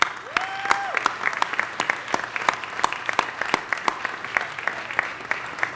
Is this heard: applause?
yes